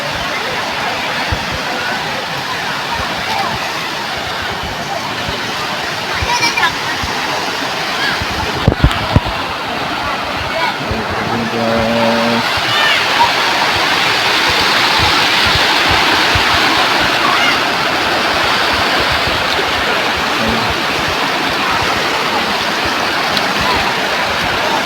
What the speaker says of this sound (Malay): Kita udah sampai di air terjun guys